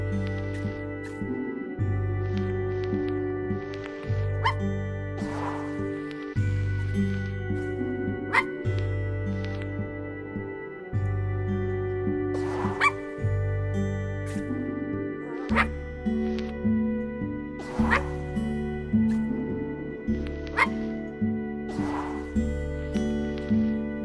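Ghost dog Sparky barks in the video game I Am Dead, repeated yips and woofs in an irregular rhythm over a steady layered musical drone.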